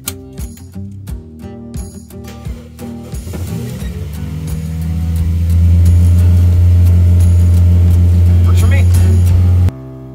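A Toyota Yaris on an autocross course laid out on airport tarmac at high elevation, its engine revving up and holding a loud, steady drone as it accelerates, with speech heard early on.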